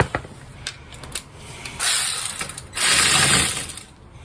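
Ratchet on a 1997 Honda Civic loosening a stubborn bolt: scattered single clicks, then two long bursts of rapid, close, loud ratcheting with a short pause between.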